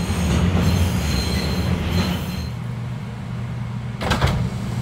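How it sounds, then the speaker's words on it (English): R142 subway train on the 5 line rolls along with loud rail rumble and sustained high wheel squeal, then a brief clatter of wheels near the end, heard close from inside the car with no talk. "This is a Manhattan-bound 5 train."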